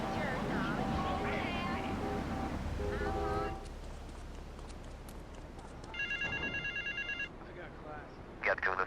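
GTA 3 payphone on a college campus giving off two loud, evenly spaced electronic rings amid traffic noise, with a voice talking early on.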